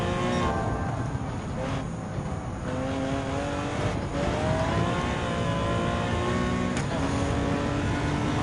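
Prototype race car engine in Gran Turismo 7 at Le Mans, a steady high-pitched whine climbing through gears on a long run, fairly quiet throughout and with no one talking.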